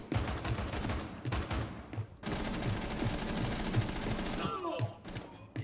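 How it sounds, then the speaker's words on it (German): Rapid bursts of gunfire in the game Tom Clancy's Rainbow Six rattle almost continuously, with brief gaps between volleys, loud and close. "Ich kann zwar meine eigenen Schüsse noch hören"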